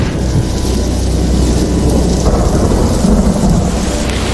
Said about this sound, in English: There is thundering and all.